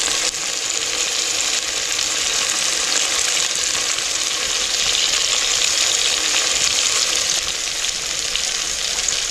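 Ginger garlic paste frying in hot oil for a chicken curry cooked outdoors in a forest: a loud, steady, hissing sizzle that runs unbroken throughout, with no voices.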